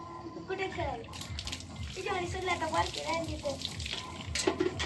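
Water poured from a bucket during a festive village bath, splashing and gushing in short bursts under frequent talking voices.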